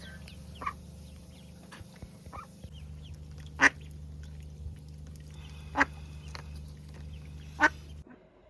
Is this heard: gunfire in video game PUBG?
no